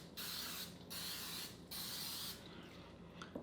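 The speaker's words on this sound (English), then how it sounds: "take a little bit more of our coconut spray and just hit the tops of each and every one of them" Repeated bursts of coconut cooking spray onto donuts, three steady hissing blasts in a row, followed by faint handling noises and a small click.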